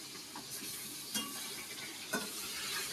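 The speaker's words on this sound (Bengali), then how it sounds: "এই যে মাছ ভাজছি" Fish fries in hot oil in a home kitchen while a large lunch order is cooked. The close, steady sizzle carries a few brief clinks of stirring, with no talking.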